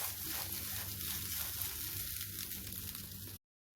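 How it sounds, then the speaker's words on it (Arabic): Rice crackling and sizzling as it is sautéed in a pot, a steady close hiss that runs unbroken for a few seconds before cutting off abruptly. "انا عايزه اسمع صوت الخروشه اللي حضراتكم سامعينها دي، كده بيدل ان الرز بتاعي اتشوح كويس"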